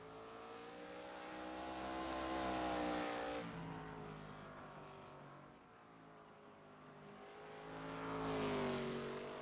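ARCA stock car in a racing video game on its out lap around an oval, engine droning and climbing in pitch, easing off briefly midway before building again, heard alone.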